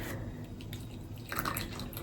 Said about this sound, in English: I'll pour myself some tea